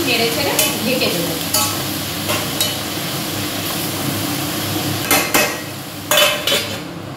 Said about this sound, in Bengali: দিয়ে শাক ভাজাটা একটু নেড়ে ছেড়ে ঢেকে দেবো।